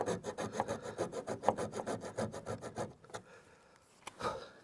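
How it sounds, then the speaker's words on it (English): A hand saw cuts small notches into wood in a quick, even run of about twenty rasping strokes, close and clear, then stops, leaving a few scattered taps and knocks. "I'm cutting these little notches out"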